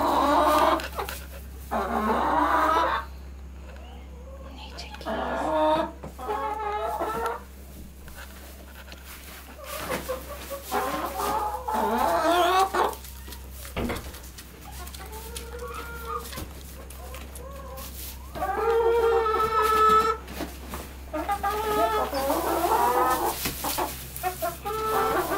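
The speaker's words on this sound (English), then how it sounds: "Hey, chickies." Backyard chickens clucking and calling in repeated bursts at close range, with a steady low hum underneath and brief human speech mixed in at times.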